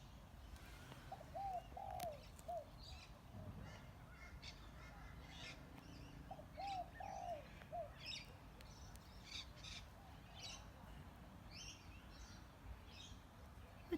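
Spotted doves give two distant rounds of soft, rhythmic cooing outdoors, while other birds chirp and squawk faintly and intermittently in the background.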